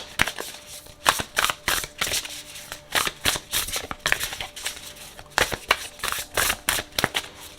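Tarot cards are shuffled in repeated quick riffling bursts, close and crisp, with short pauses between bursts and no talking.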